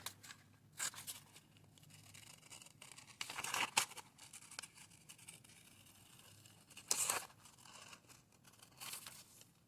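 Paper sleeve pattern being cut by hand with scissors: soft, quiet snips and crinkles, a few sharper cuts standing out against a hushed room.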